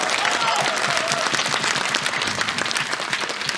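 Dense audience applause filling a hall after a brass orchestra's set at a mining company band's 75th anniversary concert, loud and sustained clapping from a large crowd with a voice briefly over it.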